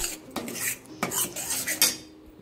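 Spoon scraping and clinking against a pan while garlic pickle is stirred with salt and sesame oil, three or four sharp metallic strikes spaced across a couple of seconds, close and clear with no talk.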